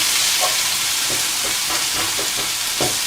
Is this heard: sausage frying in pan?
yes